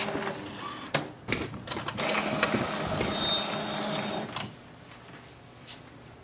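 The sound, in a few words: Epson XP-7100 printer printing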